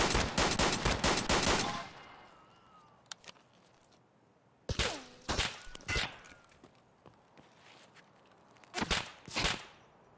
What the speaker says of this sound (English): I have no idea where those shots are coming from.